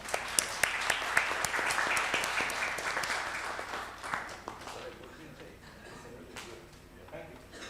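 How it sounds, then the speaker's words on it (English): Audience clapping at a managing director's valedictory address, a burst of applause that starts loud and dense, then thins into scattered claps as it fades. "We can clap, right? Once."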